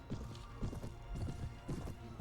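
Horse hooves pound in a Mount and Blade: Warband battle, a quick run of rhythmic clip-clop beats, close and fairly loud, in short repeating bursts.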